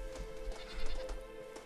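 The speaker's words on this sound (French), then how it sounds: "Alors la chèvre en premier." A goat in Red Dead Redemption bleats faintly a few times over a steady tonal game background, soft and somewhat distant, with no talk.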